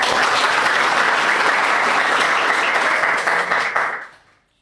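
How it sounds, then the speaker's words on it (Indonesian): Dense, steady applause from a studio audience greets a guest, a high-school principal, on a school podcast in Madiun; the clapping holds evenly for about four seconds and then quickly dies away. "Beri tepuk tangan yang meriah."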